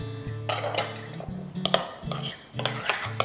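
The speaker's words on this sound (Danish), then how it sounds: "Så rører vi det rundt." Spoon stirring herring salad with apple, red onion and dill in a bowl, giving a run of close, repeated scraping clinks and knocks against the dish, with no talk.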